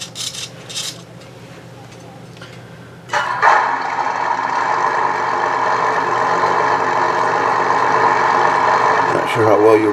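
A DAS Micro sound module in an RC truck plays a simulated truck engine: a quieter start, then a loud, steady idling drone that runs close and continuous until a brief change at the very end.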